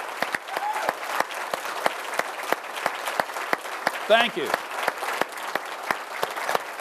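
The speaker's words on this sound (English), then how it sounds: "let us give you a round of applause for what you have done to protect" Audience applause for military veterans at a political town hall gathering, a sustained crowd of clapping hands with sharp individual claps standing out, moderately loud, while a voice speaks briefly over it and a few cheers rise midway.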